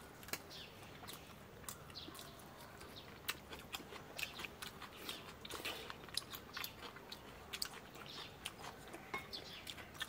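Pork knuckle skin being chewed in a rural home kitchen, with close, wet crunchy bites and chewing sounds repeating throughout, while birds chirp faintly in the background.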